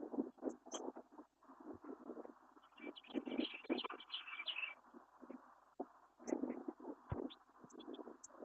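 Cardinals and blue jays call from nearby trees on a daily walk in Columbus, with scattered chirps and a brief run of bright, rapid notes in the middle, set against wind and footsteps.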